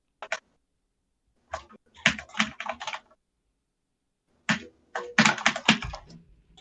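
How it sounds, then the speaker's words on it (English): Bursts of quick keystrokes on a computer keyboard, two clustered runs of clicky taps separated by a silent pause, crisp and close with no talk. "They're hearing him typing"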